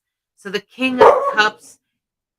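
A pet dog named Charlie barks indoors in a few sharp, close yips that overlap a man's speech, then stops.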